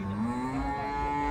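A single long, loud moo from cattle at a livestock fair in Canafístula de Frei Damião, Alagoas, close by and alone, a rising then steady lowing call.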